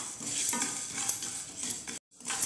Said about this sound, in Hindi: तो चलिए इन सभी मसालों को मैं ड्राई रोस्ट करके रेडी कर लेती हूँ।